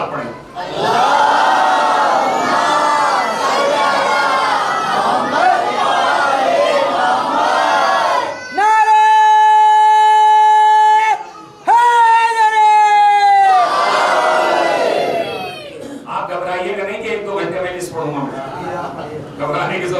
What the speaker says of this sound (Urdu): جتنی آپ کے سینوں میں طاقت ہے اتنی بلند صلوات پڑھیں